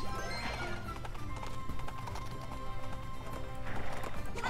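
Horse hooves galloping in the Princess Peach Showtime video game, a steady clip-clop rhythm with whinnies over game music, and voices faintly in the background.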